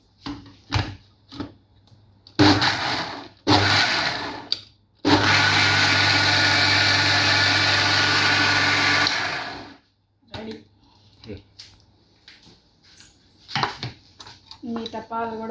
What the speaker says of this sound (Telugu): మళ్ళీ మిక్సీకి పెట్టాలా?